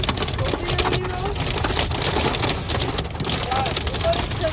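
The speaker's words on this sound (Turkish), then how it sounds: "Şu an dolu yağıyor." Hail and heavy rain pelting down at a campsite in Germany, a dense continuous patter close by, with a voice speaking over it.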